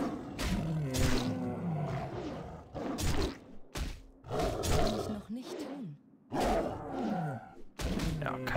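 Repeated deep roars and growls from a tiger fighting a cat form in World of Warcraft, bursts of combat snarls and thuds close up, with someone speaking German at times.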